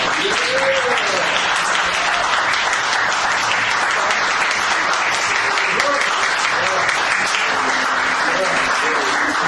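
An audience applauds for a singer, a steady, dense round of clapping that carries evenly from start to finish, with faint voices underneath.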